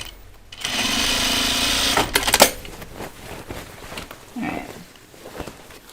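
A sewing machine stitches overall fabric in a steady close whirring burst for about a second and a half, then stops, followed by clicks and handling noises as the work is adjusted.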